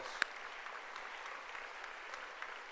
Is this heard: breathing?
no